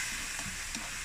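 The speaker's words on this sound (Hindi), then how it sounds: "अब हम इसको सौते करते हैं अच्छी तरह से ज़रा" Masala for stuffed tinda sautés in a pan, a faint, brief, continuous sizzling hiss with a couple of soft stirring touches.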